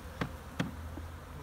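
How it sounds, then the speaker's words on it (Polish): Honey bees hum around a hive in a steady, faint drone, broken by two sharp knocks. "pszczoły są po prostu takie pobudzone"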